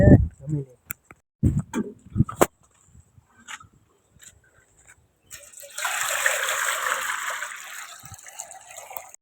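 Water running from a tap as hands are washed, a steady splashing flow in the second half after a stretch of brief talk and knocks.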